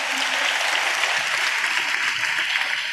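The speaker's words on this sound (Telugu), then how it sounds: "చప్పట్లు కొడుతూ మా ప్రభువుకు స్తోత్రాలు చెప్దాం." Church congregation clapping in praise during a sermon, dense sustained applause from many hands, steady and fairly loud throughout.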